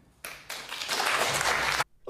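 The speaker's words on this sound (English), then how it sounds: "Listen to that applause there." A Question Time studio audience bursts into rapturous applause, a dense, steady wash of many hands clapping that swells quickly, holds strongly for over a second, then cuts off abruptly.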